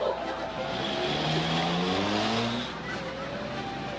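Car engine revving hard with screeching tires, a sustained loud roar of a vehicle speeding past, steady for several seconds and then easing slightly.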